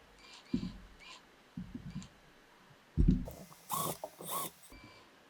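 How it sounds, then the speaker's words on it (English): Slotted screws are unscrewed from a Wurlitzer 200/200A electric piano action assembly, giving several short bursts of close metallic clicking and scraping separated by pauses. "I'm going to take them, unscrew them all"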